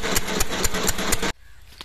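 An old water-pump engine for drawing five-inch water chugs loudly with rapid, regular firing pulses at close range, then cuts out abruptly, leaving near silence.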